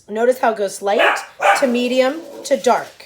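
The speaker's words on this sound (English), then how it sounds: "excuse my dogs" Household dogs bark and yip repeatedly in the background while a person talks over them, the barking mixed closely with speech throughout.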